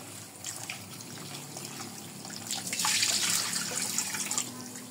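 Salted radish rinsed under a running kitchen tap, a close steady stream of water splashing into a sink, swelling louder and brighter partway through as the hands work the radish.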